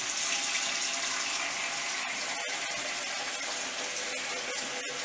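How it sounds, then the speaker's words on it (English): A 3D-printed unbalanced positive-displacement vane pump is tested with water, giving a steady, close rushing of flowing water with a few faint clicks and no talking. "I'm going to test out the vane pump."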